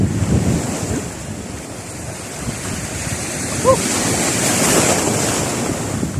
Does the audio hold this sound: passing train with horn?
no